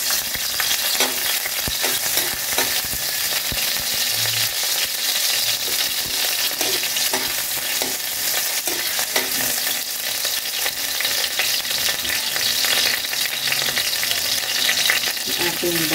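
Ginger sautéing in a hot pan gives a dense, continuous close-up sizzle with a few faint stirring scrapes underneath, loud and steady throughout.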